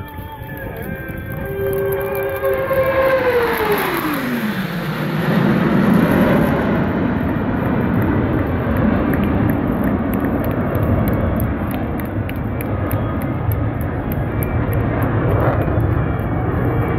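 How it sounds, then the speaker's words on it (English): Blue Angels US Navy jets pass overhead at the Terre Haute air show, a loud sustained roar with a falling Doppler whine as one sweeps by, then a broad rumbling wash that lingers, with no talk. "From the right, the Blue Angels"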